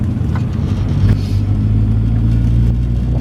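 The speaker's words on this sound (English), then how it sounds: "So as far as driving goes, the car goes perfectly well." A Triumph Acclaim engine runs steadily while the car is driven, a loud continuous low rumble with a slight rise in revs partway through and no talking.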